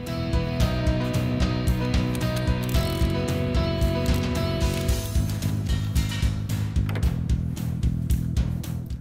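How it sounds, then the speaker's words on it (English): Ratchet wrench turning to remove a spark plug from an engine, a rapid continuous clicking of the pawl with metallic ringing, close and loud throughout. "we are now removing the spark plug"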